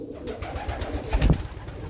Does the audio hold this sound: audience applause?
no